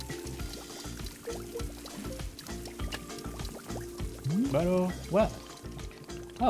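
Tea pours into a cup in the game Wanderstop, a soft liquid stream rising in pitch as the cup fills near the end, over a steady background and talking.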